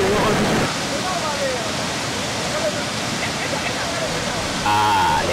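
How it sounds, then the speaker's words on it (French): The Karfigela waterfalls: a broad, steady rush of falling water, loud and continuous, with a voice briefly heard near the start and again at the end. "les cascades de Karfigela, une merveille de la nature qui vaut la peine d'être visitée"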